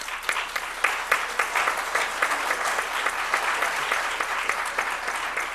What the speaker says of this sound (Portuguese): eu pediria até um aplauso